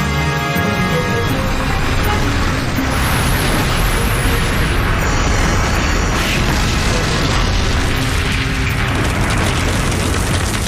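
Tank gunfire and explosions as a US cavalry troop destroys an Iraqi T-72 tank company in a desert battle, a continuous loud wall of booms and blasts with mechanical rumble, no talk, steady throughout.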